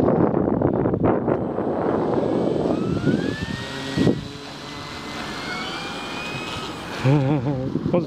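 An FMS BF109 radio-controlled model airplane taking off crosswind on a windy day, its electric motor whining steadily and loud, with heavy wind buffeting the microphone and a brief voice near the end.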